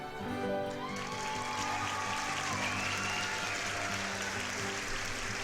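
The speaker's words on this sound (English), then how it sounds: "the crowd stood with a roaring applause" Steady roaring applause from a large crowd at a stage event in Asagao Academy, dense and continuous with clapping throughout, set against sustained musical tones.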